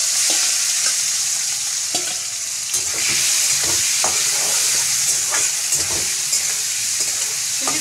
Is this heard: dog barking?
no